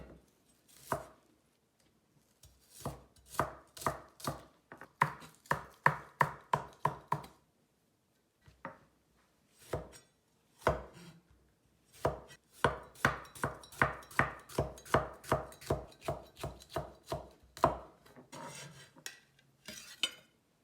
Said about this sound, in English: Let's start by cutting the vegetables